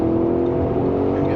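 Audi SQ7 engine pulling hard after a downshift to overtake on an open road, a steady close-up drone with strong low rumble, heard from inside the cabin with no pauses.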